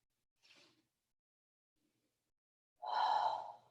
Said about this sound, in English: Exhale. Inhale. Exhale.